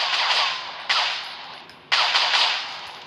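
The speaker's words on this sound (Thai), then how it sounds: "อุ้ยเปลี่ยนปืนเป็นปืนพกครับ จะไปยิงกำแพงเล่นกันนะฮะ" Pistol fire at a wall in a first-person shooter video game: two loud, close shots about a second apart, each a sharp crack trailing into a bright, hissing decay.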